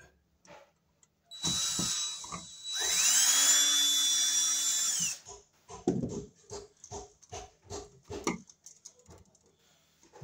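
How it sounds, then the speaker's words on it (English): A handheld screw gun whines in short bursts and one long sustained run while driving screws into an electrical outlet box on a workbench, followed by a series of close clicks and knocks. "we'll screw it in with the screw gun"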